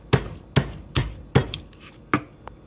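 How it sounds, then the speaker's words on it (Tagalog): Someone crushes a whole garlic bulb for lechon kawali with five or six sharp, evenly spaced knocks, followed by a lighter tap. Each impact is close and crisp against a quiet background. "Pipitin natin ang ating garlic. Isang buong garlic."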